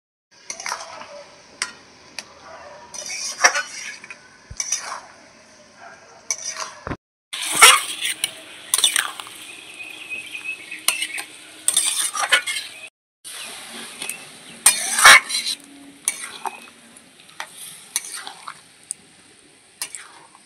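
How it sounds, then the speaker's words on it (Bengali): Chopped raw mango is stirred with jaggery in a pan, with intermittent scraping and clinks of a spoon against metal and a faint sizzle between strokes, close by and without speech. "ভালো করে গুড়ের সাথে এবার মিশিয়ে নেব।"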